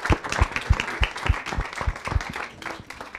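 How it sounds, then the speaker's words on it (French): Audience applause at a partners' club event for the ARTS association and Les Toiles Vertes, a small crowd clapping in uneven rhythm, loud at first then thinning out. "Applaudissez-la, très fort."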